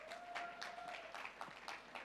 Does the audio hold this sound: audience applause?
yes